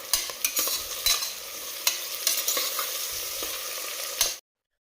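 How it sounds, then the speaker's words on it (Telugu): Onions and curry leaves fry in a pan for gongura pulav, a steady close sizzle broken by repeated clinks and scrapes of stirring, ending abruptly in silence. "ఆనియన్స్ కొంచెం ఫ్రై అయ్యాక కరివేపాకు వేసుకోవాలి."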